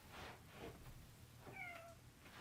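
A kitten meows a couple of times, soft and close, in a quiet indoor room.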